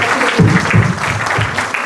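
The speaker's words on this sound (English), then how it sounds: "Ladies and gentlemen, a warm round of applause, please, for all our panelists" An evening book-launch audience applauds the panel with a short, steady wash of clapping, loud and close.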